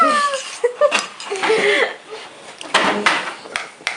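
A voice imitates a cat, giving a few short, rising meows close up, with breathy, laugh-like sounds between them.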